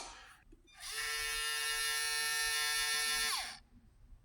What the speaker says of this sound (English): you could hear that the motor was wanting to spin, but it was just not spinning